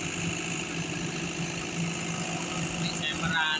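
A 30 kVA generator set powering a village celebration sound system runs at a steady idle, a continuous mid-pitched engine drone with faint knocking, while people talk nearby.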